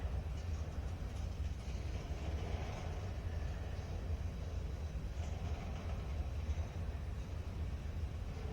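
CSX M424 eastbound freight train passing through Pittsfield, Massachusetts, during a snowstorm, a steady broad rumble that holds level for the whole stretch with no voices.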